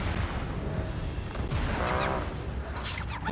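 A Confringo fire spell blast in the video game Hogwarts Legacy, a loud sustained rumbling burst with crackling energy over busy game sound, swelling toward the end.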